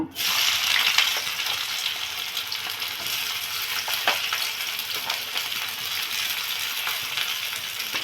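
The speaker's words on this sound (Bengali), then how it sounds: "এবার এরপর পেঁয়াজটাও ভেজে নিব এখন একসাথে" Onions fry in a pan for steamed katla fish, a steady close sizzle with a few faint clicks of stirring and no talk.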